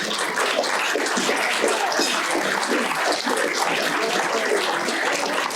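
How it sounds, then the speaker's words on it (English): Loud, dense applause fills a room at a chamber of commerce annual dinner, honoring the chairman Mike Sullivan; a continuous wash of many hands clapping without break. "Give Mike Sullivan a round of applause"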